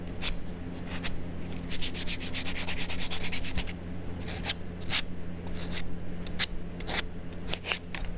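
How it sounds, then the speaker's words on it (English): Sandpaper rubs across a small wooden picnic table surface in quick back-and-forth strokes, near and clear, with bursts of scratchy swipes separated by short pauses. "I can sand this surface"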